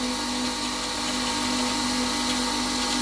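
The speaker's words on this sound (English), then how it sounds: "And then I can stick this on the grinder and rotate it," A bench grinder runs continuously while a wood turning chisel held in a jig is sharpened against it, giving an even, unbroken motor drone with a steady hum beneath a broad grinding hiss.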